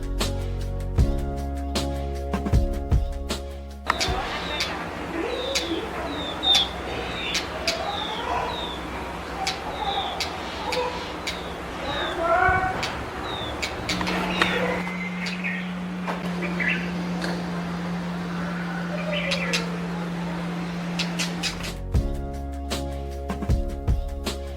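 Brown rock chat sings in short, repeated bright chirps and tweets over a steady outdoor background, with a long held tone crossing the middle and music framing the start and end.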